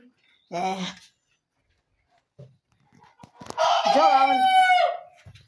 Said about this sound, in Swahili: Haya ndo majogoo yangu haya